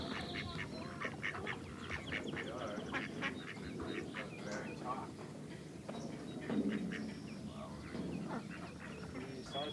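Ducks quack over and over at a bird sanctuary, with honking geese mixed in. The calls are continuous and overlap each other, and people talk underneath the birds.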